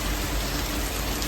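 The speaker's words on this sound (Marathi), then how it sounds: "गाईस, इथं पाऊस किती आहे" Rain falling outdoors, a steady, even hiss of drops with no voices, continuous for the whole short stretch.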